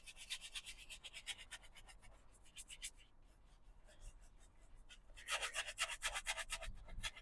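Bristles scrub paint onto an object in quick rhythmic strokes, a faint close rubbing and scratching that pauses midway and then returns louder and denser.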